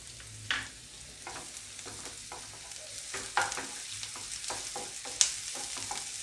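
Onion and garlic fry in a pan for a ginger-free pea and potato kurma, a steady faint sizzle broken by repeated scraping stirs and a few sharp metallic clinks of the spoon, with no talking.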